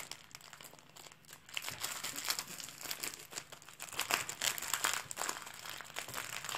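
Paper crinkles and crumples in bursts as a package of pink lace is unwrapped by hand, close and fairly quiet, the rustling swelling and easing over several seconds.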